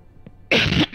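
A single harsh cough bursts out close and loud after near silence, followed by a brief softer trailing sound.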